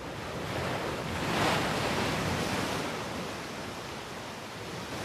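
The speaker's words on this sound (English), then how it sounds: "Watch for rogue waves, or just stand well above the tide line, watching surf pounding in." Ocean surf pounds the rocky Hong Kong coastline in a steady, dense wash of noise that swells slightly before easing, with wind across the shore and no voices.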